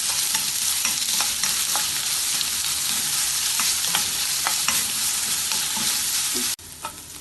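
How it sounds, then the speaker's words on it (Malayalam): Finely chopped onion sizzles steadily in a hot pan with spices while a spoon stirs it, giving intermittent scraping clicks over the constant frying hiss; no talking. "ഇതിനി ഇളക്കി വഴറ്റാം."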